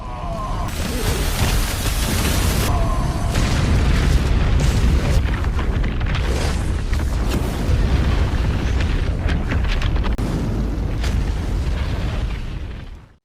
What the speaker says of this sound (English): In the end, Fenya's body gradually exploded